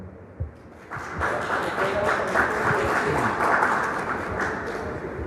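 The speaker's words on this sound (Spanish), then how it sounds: "al cual recibimos con un fuerte aplauso" Applause from an audience welcoming a lawyer to a training session, a dense sustained clapping that swells quickly and holds steady throughout.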